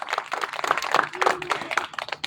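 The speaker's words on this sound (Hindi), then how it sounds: "एक बार फिर से जोरदार ताली" Audience applause at a school speech competition, a dense burst of many hands clapping, loud and close, continuing steadily without talk.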